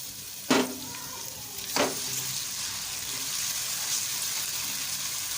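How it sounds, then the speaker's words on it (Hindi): Tomatoes fry and get stirred in a pan for an aloo methi sabzi, a steady soft sizzle with two sharper scraping stir strokes near the start. No one speaks. "और इसको हल्का सारा फ्राई करेंगे ताकि जो ये टोमेटो वो गल जाए"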